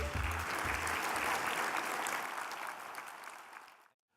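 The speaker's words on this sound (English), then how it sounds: "let's have another round of applause for all of our presenters" An audience at a development roundtable event applauds loudly with sustained clapping that gradually fades out before ending in silence.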